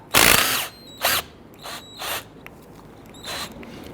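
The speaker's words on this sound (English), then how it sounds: "we're going to use our 13mm socket and we're going to loosen and remove the two slide pin bolts here" Ratchet with a 13mm socket spinning out the rear brake caliper slide pin bolts on a 2010-2019 Ford Taurus, giving several short, close metallic clicking bursts separated by pauses.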